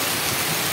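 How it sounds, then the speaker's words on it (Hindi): Heavy rain pours down in a street where drain water is overflowing onto the road, a loud, dense, unbroken hiss filling the moment with no voices. "और बहुत तेज बारिश हो रही है"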